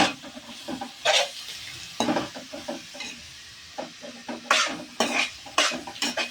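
Onions browning in a pan, stirred with a ladle: frequent scraping, clattering strokes over a constant sizzle, close and lively, no voices.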